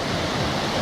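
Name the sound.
rushing muddy Teberda mountain river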